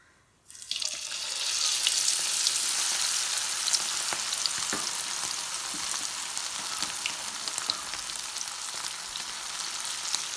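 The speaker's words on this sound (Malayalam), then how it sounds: "എണ്ണ ചൂടായി കഴിയുമ്പോൾ നമുക്കത് കുറേശ്ശെ എടുത്ത് വറുത്തെടുക്കാം" Marinated beef pieces deep-frying in a pan of hot oil, a steady loud sizzle that surges as the meat goes in and then holds a dense crackling hiss with small pops, no talking.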